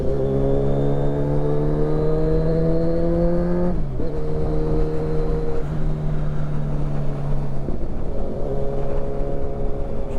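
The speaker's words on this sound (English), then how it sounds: "damn, it sounds so good," A Kawasaki Ninja 1000SX motorcycle fitted with a Black Widow exhaust rides along a hilly road, its steady engine drone rising through the gears with two clear gear-change dips, loud and close throughout.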